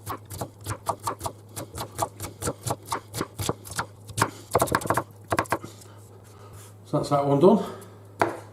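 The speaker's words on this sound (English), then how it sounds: "then just finally chop it" Rapid, even knife chops through an onion on a cutting board for tikka masala, a steady series of crisp taps near the mic, then a pause and a brief scraping shuffle as someone speaks briefly.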